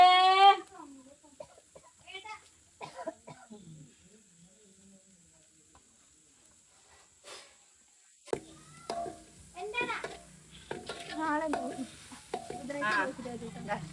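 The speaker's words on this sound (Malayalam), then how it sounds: "വെളിച്ചെണ്ണയിൽ ഇങ്ങനെ ഉള്ളി വാട്ടുമ്പോൾ നല്ല മണം വരുന്നില്ലേ" Onions sautéing in coconut oil in a pan give a low sizzle that swells into a steadier, louder frying hiss partway through, under intermittent nearby talking and other household sounds.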